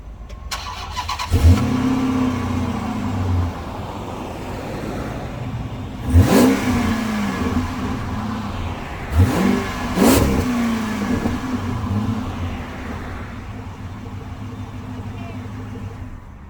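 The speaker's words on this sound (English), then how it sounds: "You got a chance to hear the inaugural exhaust note." A car engine cranks and fires up, then two sharp, loud revs blip up and settle back to a rumbling idle, with the exhaust note dominating throughout.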